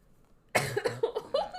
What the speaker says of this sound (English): It's like a hacking cough.